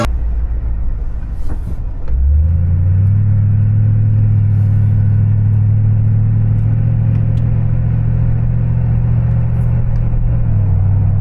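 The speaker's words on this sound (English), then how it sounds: "Just doing a little bit of driving here" A car driving on the road: after about two seconds of quieter rumble, engine and road noise swell into a loud, steady low drone that holds evenly, close and without talk.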